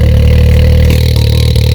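A custom 2020 Can-Am X3 RC side-by-side with a switchable exhaust revs very loudly and close, a deep throbbing engine tone with brief throttle blips and no talking.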